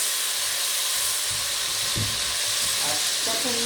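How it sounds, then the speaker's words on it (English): Bay leaves are stirred in a soup pot for tomato rice soup, a loud, steady hiss of sizzling with a few low scrapes and clinks from the stirring. "Give it a stir."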